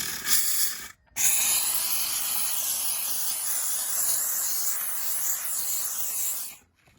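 A Harbor Freight 1500 watt steam cleaner sprays a steady, loud hiss of steam for several seconds. The stream cuts out briefly near the start, then runs continuously before stopping, with no talking.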